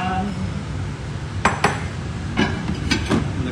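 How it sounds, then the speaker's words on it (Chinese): A serving plate handled in a home kitchen while plating pan-fried teriyaki mackerel, a few sharp ceramic clinks and knocks spaced apart over low room noise. "你要拿一个美丽的盘来装"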